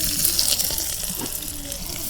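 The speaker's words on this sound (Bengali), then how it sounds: "তেল গরম হচ্ছে, এখন পেঁয়াজ কুচি দিয়ে দিই।" Chopped onion dropped into hot mustard oil in a village kitchen pan, giving a loud, dense, continuous sizzle close by, heard alone.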